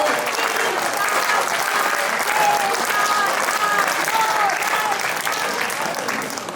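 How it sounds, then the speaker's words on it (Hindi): Audience at a Hindi poetry gathering, a kavi sammelan in Paota, clapping steadily in a dense, sustained wash of applause with crowd voices and cheering mixed in, loud and continuous throughout. "अब इन्हें 10 बार तालियां बजाइए।"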